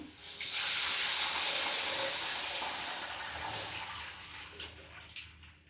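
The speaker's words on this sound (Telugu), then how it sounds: "ఇప్పుడు ఇందులో వాటర్ పోసుకుందాం పోస్తున్నాను" Water poured into a hot pan of fried green chillies bursts into a loud steaming hiss that swells quickly, then slowly fades over several seconds, close by with no talking.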